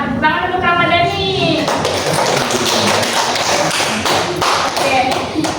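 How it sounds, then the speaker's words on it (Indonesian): A classroom of students claps for a classmate, a brisk scattered patter of hands close by, mixed with children's voices and a teacher's speech at the start. "tepuk tangan untuk Ramadhani"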